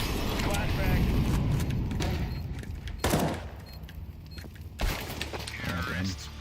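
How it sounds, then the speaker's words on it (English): Grenade, incendiary and flashbang blasts going off in a tactical shooter game, a dense wash of game noise with sharp bursts near three and five seconds, heavy background chatter of gunfire effects throughout, with talk present. "Grenade out. Incendiary. Flashbang."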